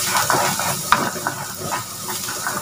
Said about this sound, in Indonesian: Ini harus ditumis sampai wangi